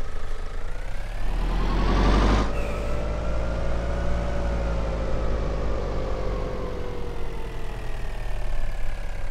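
A special-purpose vehicle's engine in Sonderfahrzeug-Simulator 2012 starts with a brief rising crank and then settles into a steady, close, low idling drone that holds for the rest of the clip, with no one talking.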